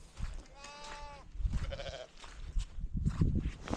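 A sheep or lamb bleats on a hillside in the Peak District moorland of Kinder Scout, giving one clear wavering cry followed by a shorter second call, amid wind and rustling outdoor noise.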